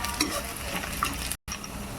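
Onions and green chillies frying in oil in a pan for a chicken and potato curry, a continuous close sizzle with faint stirring, broken by a brief cut to silence near the end.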